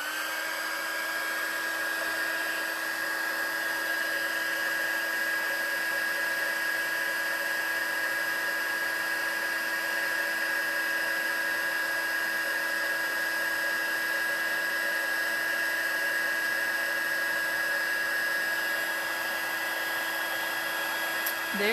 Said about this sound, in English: So now I'm going to get my heat tool out